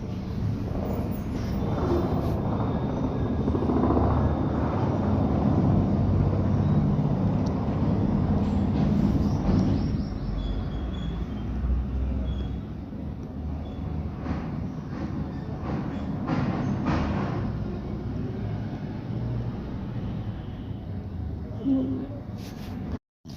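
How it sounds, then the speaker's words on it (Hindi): Vehicles passing on the road beside a house during a home puja make a continuous low rumble that swells and fades gently over time, with no clear voices on top. "घर के बगल में गाड़ी की बहुत सारी आवाज़ आती है"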